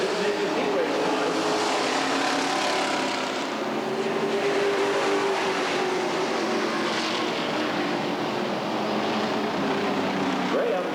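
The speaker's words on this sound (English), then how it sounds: "Doug Ray in the lap 21, scheduled for 35 laps." Street stock race cars roar around a dirt oval track at a 1989 main event, a continuous loud engine drone swelling and fading as cars pass, with an announcer talking over it.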